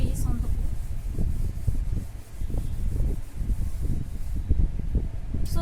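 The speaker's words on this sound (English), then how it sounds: "let me first rub it, later I will write again because there is no space on the board" A board eraser rubs across a classroom board in repeated back-and-forth strokes, a steady scrubbing rhythm up close with no talking.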